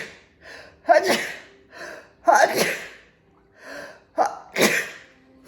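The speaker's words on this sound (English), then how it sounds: "I have to sneeze." A person sneezes three times in quick succession, each sneeze preceded by a sharp inhaling gasp, loud and close with short pauses between them.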